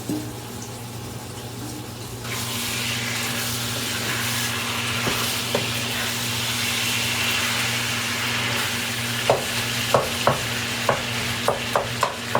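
Ground meat browning in a pan for egg roll in a bowl, a continuous soft sizzle with a steady hum underneath, then a series of light clicking scrapes from stirring toward the end.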